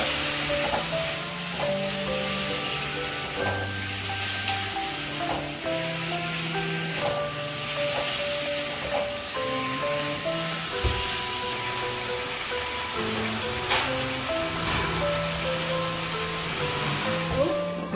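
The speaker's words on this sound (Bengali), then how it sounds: "রেখে দিয়েছিলাম আধা ঘন্টা, এখন আমি সেটাকে একটু ভেজে নেব।" Marinated chicken frying in a pan for a home-style chili chicken, a loud, steady sizzle throughout with occasional stirring and clinks of a utensil against the pan.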